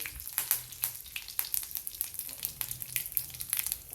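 Mustard seeds and cumin sizzle and pop in hot ghee for a kadhi tempering, a close bright crackle with rapid irregular spits and pops.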